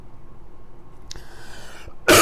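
A single sharp cough bursts out near the end, loud and close, after a stretch of quiet room noise and a faint hiss.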